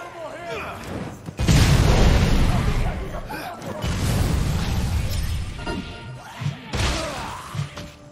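Bomb explosion in Dead Rising 4 amid a zombie fight in a city: a heavy booming blast with thuds and crashing debris that rumbles for a few seconds, with people talking throughout.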